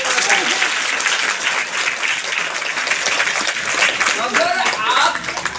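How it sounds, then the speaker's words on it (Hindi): An audience applauds loudly and continuously at a gathering, a dense, sustained wash of clapping that stays strong from start to finish. "जबरदस्त एक बार जोरदार ताली।"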